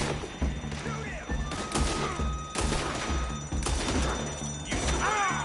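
Gunfire in Red Dead Redemption 2 during a fight, several sharp shots and crashing impacts spread unevenly over a few seconds, mixed with other game sounds and whistling tones.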